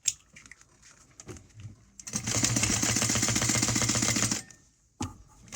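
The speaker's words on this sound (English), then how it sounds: "we're going to sew all the way around" An electric sewing machine stitches a box around a card for about two seconds of fast, even rattling, set between quieter handling noises and short pauses.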